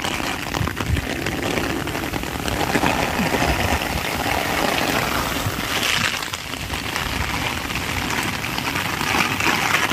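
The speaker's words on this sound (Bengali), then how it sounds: "ফেসে গেলাম বৃষ্টিতে" Steady monsoon rain falling outdoors, a continuous dense hiss throughout with no talk.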